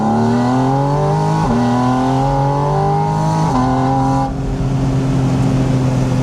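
A manual Porsche 987 Spider with a sport exhaust accelerates hard. The loud, close engine note climbs in pitch and drops sharply at two gear shifts before pulling again, with no talking.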